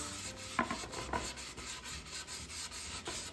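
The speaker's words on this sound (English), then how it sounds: "But I'm just gonna rub this all over the inside and outside." Old English polish rubbed by hand onto a wooden dough bowl, a faint, soft rhythmic rubbing and rasping over quiet background, with a few light knocks of the wood.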